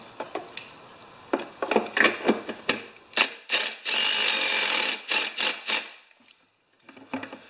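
Hand-tightening a 3/8 bolt on a Craftsman EZ Walk mower being restored, with quick bursts of ratchet clicking, a steady run of rapid clicks in the middle, then a short pause and a final few clicks.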